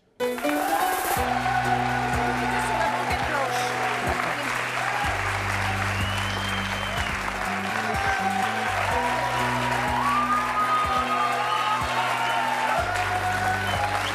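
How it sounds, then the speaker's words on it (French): Studio audience on a French talk show applauding a guest's arrival, continuous clapping starting abruptly, with a steady low music bed playing underneath. "je vous demande de l'applaudir très chaleureusement"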